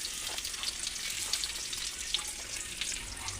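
Garlic sizzles in hot oil in a pan, a steady close crackle with small pops scattered through, fairly quiet and with no talk.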